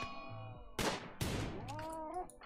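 Two sharp, loud gunshot bursts from the colony game RimWorld, each with a ringing tail, set against a faint droning game soundtrack.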